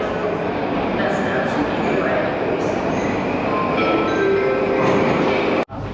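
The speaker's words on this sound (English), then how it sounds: "And here comes the train." A Tashkent metro train pulls into an underground station with a steady, loud rumble and rail clatter filling the space, while people talk in the background.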